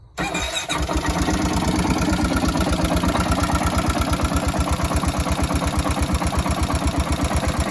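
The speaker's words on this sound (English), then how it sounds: "You can hear it sounds, the valve's still up top, still make a little sound" A small engine idling close by after starting, a steady rapid putter with a faint ticking from the valve at the top, loud and alone.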